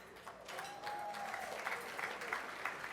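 An audience at a Capitol summit dinner with the Jewish Caucus applauds steadily, a dense wash of clapping with a few cheers mixed in, continuous throughout.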